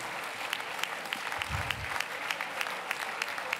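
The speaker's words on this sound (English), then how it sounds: "I think Dolores deserves a nice round of applause." Audience applause at a children's museum gala, a steady wash of many hands clapping throughout, with a brief low thump of movement near the middle.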